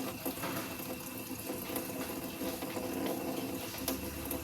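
Water runs steadily from a tap into a container being filled, a continuous close splashing rush with no talk.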